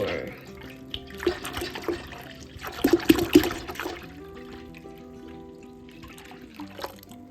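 Milk poured into a cheese-making pot for white cheddar, a steady liquid rush with sloshing bursts in the middle, fairly close and continuous.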